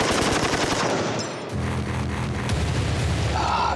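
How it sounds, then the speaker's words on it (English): An M60 machine gun fires into a pile of powder on the floor, a loud, continuous roar of rapid shots with a heavy booming blast running throughout, close and dense, with no talk. "The muzzle blast from the M60 blew the powder completely off the floor before it even had a chance to light it."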